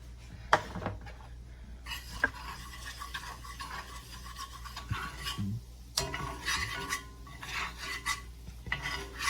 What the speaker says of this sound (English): I'm going to start sprinkling it into the bacon grease